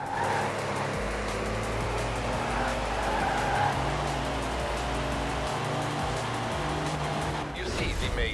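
A racing truck in Forza Horizon 4 skids downhill with its tires squealing. A steady engine drone and scraping tire noise run loud and continuous, then end with a short rough burst.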